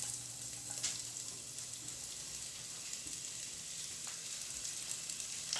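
Thinly sliced fennel sizzles steadily in olive oil in a heavy pot, giving a continuous soft crackling hiss with faint scattered pops, fairly quiet and with no talking.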